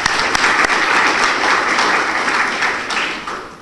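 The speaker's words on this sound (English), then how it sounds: "Join me please in a round of applause again for them." At the inauguration of a South Asian environmental security forum, an audience gives a sustained round of dense applause after a military band's opening ceremony, loud and even before easing slightly at the end.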